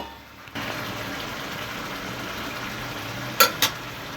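Cooking liquid bubbling in a pan on the stove, a steady low simmering burble heard up close, broken near the end by two sharp clinks of a utensil against the pan.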